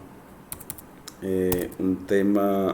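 Typing on a computer keyboard while writing code in Jupyter, with a few isolated key taps followed by quick bursts of rapid, close, clattering keystrokes.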